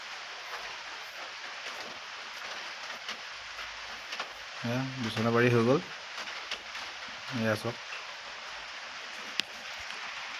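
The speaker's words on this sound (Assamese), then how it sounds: "খিনখিনীয়া বৰষুণ দি আছে" Light rain falls steadily outdoors as a soft, continuous hiss, with a person speaking over it partway through.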